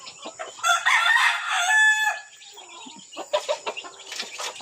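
Rhode Island Red roosters crow near a chicken coop, one long loud crow followed by fainter clucking and a second, more distant crow.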